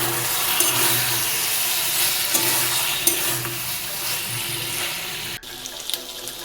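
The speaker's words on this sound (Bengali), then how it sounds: "শিম আর আলুটা মশলার সাথে 1 মিনিট মতন কষিয়ে নিচ্ছি।" Green beans and potatoes being fried and stirred with spices in a pan for a vegetable dish, giving a steady close sizzle with scraping stir strokes that drops sharply near the end.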